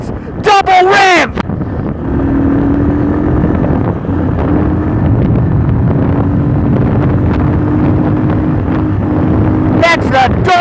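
Honda Hawk 250 motorcycle engine revving in a quick doubled burst, loud and close, with a steady drone and wind rush across the clip and a voice heard at the start.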